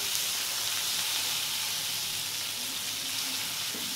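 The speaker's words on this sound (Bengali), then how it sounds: "ভাজা হতে হতে আমি কিন্তু চিংড়ি মাছ আর ঢ্যাঁড়সটা দিয়ে মশলাটা একটু কষিয়ে নিচ্ছি" Shrimp and okra fry with spices in a hot pan, a loud, dense, continuous sizzle close by with faint stirring underneath.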